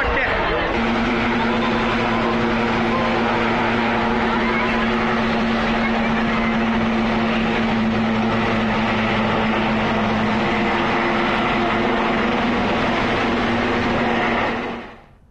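A helicopter carrying the Maharashtra chief minister, the one that crash-landed in Latur, gives off a loud, continuous rotor and engine drone with a steady whine. Voices are mixed in, and the sound fades out at the very end.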